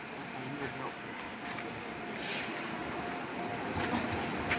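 A train on a newly built railway platform, heard as a steady, rumbling wash of rail and crowd noise that stays level throughout, with indistinct voices mixed into the background.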